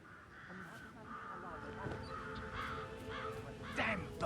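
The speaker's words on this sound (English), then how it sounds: "Damn birds!" Crows caw in short harsh bursts, several calls in close succession, at a moderate distance in a Hitman 3 game scene, with a voice talking over them.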